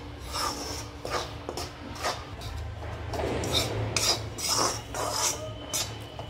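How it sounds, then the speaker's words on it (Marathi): Ground lentils roast in ghee in a pan for winter laddu, and a spoon keeps scraping and stirring them in a continuous close, gritty rasp with clinks against the metal. "आपण डाळ दळून आणलेली याच्यात सोडणार आहोत आणि याला भाजून घेणार आहोत चांगलं।"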